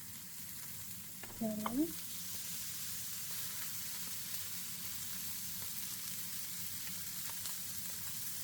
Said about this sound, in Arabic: سخنت المقلة معانا كويس، نحط الحين ستيك